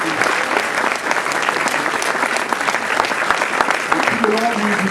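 Festival audience applauding filmmaker Gaston Caboret at an opening-night film event in Berck, steady full-room clapping, loud and dense throughout, with faint voices mixed in near the end.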